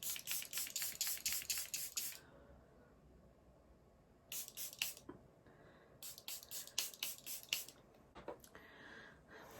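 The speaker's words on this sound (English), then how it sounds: "let's spray and set this side" Rapid bursts of hissing spray from a Charlotte Tilbury Airbrush Flawless setting spray pump bottle, several quick pumps in a row, then pauses and two more clusters of spritzes, close up.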